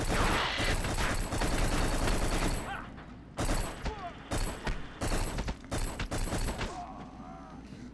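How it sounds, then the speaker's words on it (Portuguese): Dense bursts of gunfire in the PlayStation 2 shooter Black, played on hard difficulty, crackle through the first few seconds, then break into shorter scattered volleys and mechanical clatter. A voice may be talking faintly underneath. "Os caras já estão atirando"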